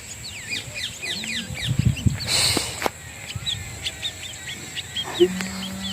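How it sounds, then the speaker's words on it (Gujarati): A flock of small black birds chirping and calling outdoors near a farm field and home, with quick repeated tweets layered over rustling and occasional other noises, no clear talk. "એટલી મસ્ત ચકલીઓ છે ને કાળા કલરની છે પણ મસ્ત ચકલીઓ છે ઉડી છે"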